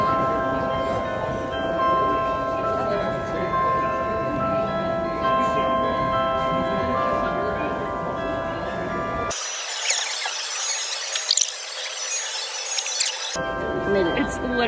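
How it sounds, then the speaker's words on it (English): Toy dolls pop out of a mechanical clock-like figure and ring a small bell, a steady tinkling, clinking chime that runs continuously for several seconds, briefly interrupted, with room noise and faint voices around it. "these dolls come out of the thing and start ringing the bell"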